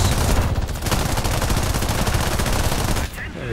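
Loud, close bursts of machine gun fire from a P-36A fighter in War Thunder air combat, rapid rounds hammering almost continuously for about three seconds before cutting off.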